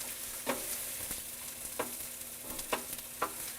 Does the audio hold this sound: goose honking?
no